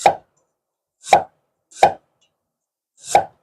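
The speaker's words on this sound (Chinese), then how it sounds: "我们要腌这个鱼，切片" A knife cuts through fish for marinating in four separate, crisp strokes against a board, each one a short thud with nothing but silence between them.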